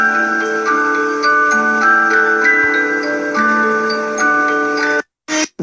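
A traditional German cuckoo clock ticks in a steady, even rhythm, close and clear over a resonant mechanical hum, with no talking, before cutting off abruptly near the end.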